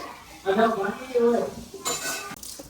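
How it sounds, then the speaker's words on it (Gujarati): Dishes, pots and pans are scrubbed in a home kitchen, with a few clinks and a scraping rush of washing, while a voice speaks over the clatter. "શેના વાસણ ઘસે છે મમ્મી?"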